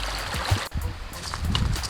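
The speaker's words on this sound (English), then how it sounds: "There's a waterfall over here." Water rushing steadily over a small waterfall along a woodland creek, a continuous close trickling and gurgling wash with no voices.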